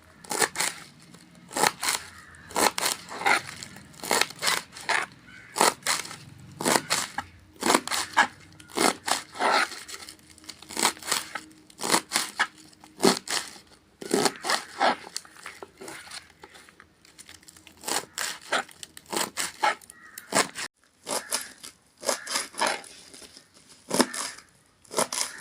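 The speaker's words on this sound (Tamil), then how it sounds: "இந்த தாளும் இந்த அளவுக்கு நீளமாக கட் பண்ணிக்கோங்க" Radish leaves being cut into long strips for a radish stir-fry, heard as a steady run of crisp snipping and crunching chops at close range, with no talking.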